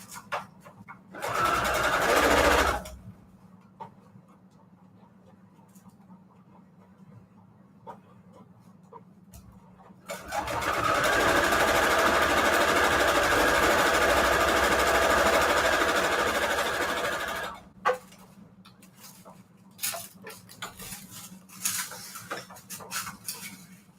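A sewing machine running a short straight stitch on string quilt patchwork journal covers, loud and close, with a short burst followed by a long steady whir and then scattered clicks and handling noises.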